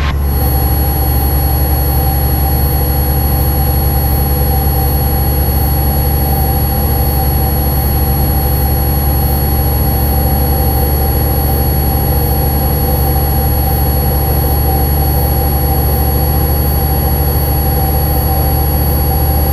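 A small training airplane's engine droning at high power in flight, a loud, steady, unbroken roar with a strong low hum, heard from inside the cockpit.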